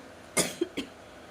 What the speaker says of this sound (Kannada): ಸಿಕ್ಕಾಪಟ್ಟೆ ಕೆಮ್ಮು ಕೆಮ್ಮು ಬರ್ತಾ ಇದೆ ನನಗೆ